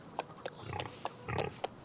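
Short grunting oinks from pigs in a Farming Simulator 25 livestock pen, several brief calls spaced irregularly, fairly close and alone.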